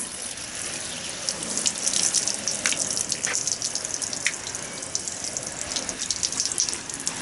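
Water rinses over a car's bodywork in a continuous, fairly close splashing gush. Small spatters rise and fall through the rinse, and nobody talks.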